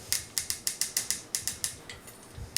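A metal GoShogun action figure's ratchet joints click as a limb is moved, about a dozen crisp, evenly spaced ratcheting snaps close up, slowing slightly toward the end, with no speech.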